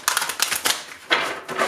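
A deck of tarot cards is shuffled up close in several quick, crisp riffling bursts separated by short pauses.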